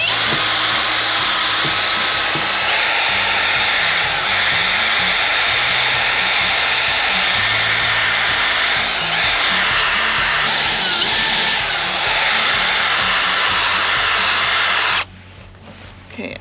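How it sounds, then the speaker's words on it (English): An electric drill spins a P800 sanding disc against a cloudy car headlight, a continuous high whine with grinding texture lasting most of the clip before cutting off abruptly near the end. "So now I'm using the P800 disc."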